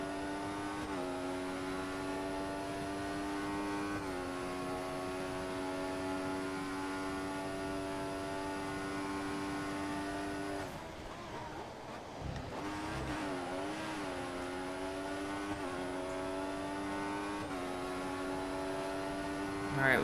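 Formula 1 race cars in the game F1 2014 scream at high revs in a steady, loud engine drone, with a brief dip and gear shifts midway as the pitch drops and climbs again.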